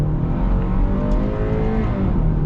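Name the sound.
2024 Hyundai Tucson XRT engine revving while accelerating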